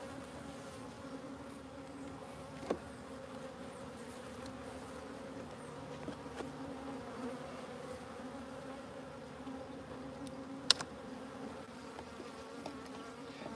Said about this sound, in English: seriously, these bees are just going bonkers.